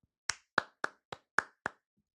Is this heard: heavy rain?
no